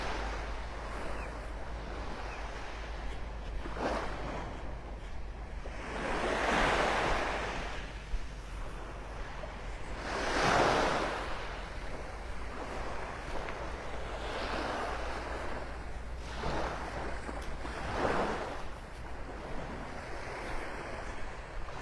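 Ocean surf rolls onto the beach at Delnor-Wiggins in North Naples, with several slow swelling wave washes rising and fading over a constant low rumble and some wind on the microphone, no voices.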